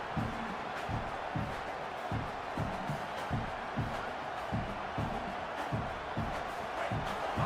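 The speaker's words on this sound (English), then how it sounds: "Listen to this crowd just shaking the girders of this place trying to help their defense." A stadium crowd roars in a football video game, a dense, steady wash of far-off noise with rhythmic low thumps that pulse beneath it throughout.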